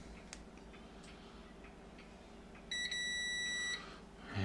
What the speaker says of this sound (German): Wieso piepst du so komisch?